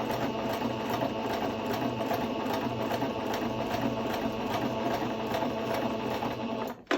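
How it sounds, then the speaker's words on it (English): A sewing machine stitches a skirt waistband in a steady, continuous mechanical whir at close range, running unbroken for several seconds before stopping abruptly at the end. "a sewing machine, I can't sew as neat as this thing"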